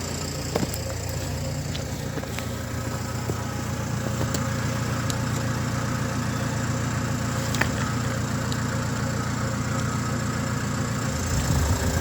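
A Renault Trafic 2 Phase 2 van's diesel engine idles steadily and close, running better after a faulty PCV valve caused power loss, a constant low rumbling drone with a faint tick or two, no speech.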